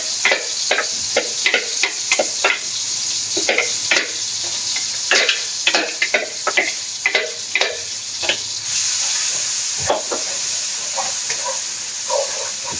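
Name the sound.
sautéing blended shallot, garlic and large chili paste in pan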